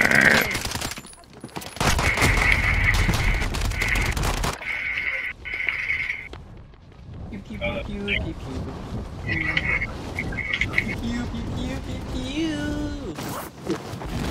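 Gunfire in Call of Duty: Modern Warfare, bursts of automatic weapon fire and loud shots mixed with game effects and music, with players talking over the action.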